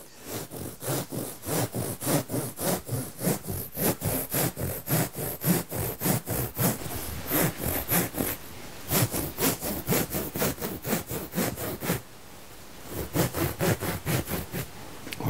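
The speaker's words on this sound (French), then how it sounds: "c'est extrêmement facile à couper" A large serrated bread knife saws through an Isonat eco-friendly wood fibre insulation panel, with rapid rhythmic rasping back-and-forth strokes, close and fairly loud, a brief pause, then more strokes.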